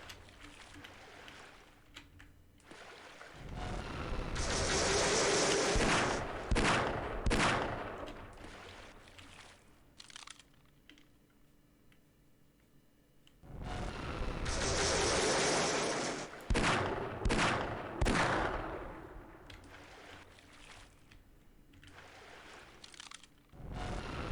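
Gunfire during a boss fight in the Half-Life video game, coming in two long, loud stretches of dense, rapid shots and blasts separated by a quieter lull with scattered impacts.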